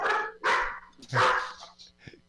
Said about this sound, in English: Now the dogs are talking.